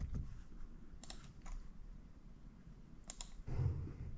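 Computer keyboard and mouse clicking while copying a table in transmission tuning software: a few scattered sharp clicks, some in quick pairs, with a soft thump near the end and no talk.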